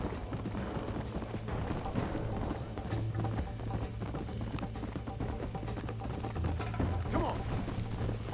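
A horse in Red Dead Redemption is ridden at pace, its rhythmic hoofbeats running continuously beside game music and mechanical rattling, while someone talks intermittently.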